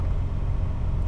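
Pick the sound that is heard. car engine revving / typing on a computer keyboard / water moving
car engine revving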